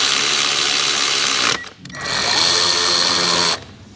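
A power ratchet tightens an M8 bolt on the air inlet duct of a diesel Toyota Landcruiser 200 Series. It gives two close, loud bursts of steady whirring and clicking, each about a second and a half long, with a short pause between them.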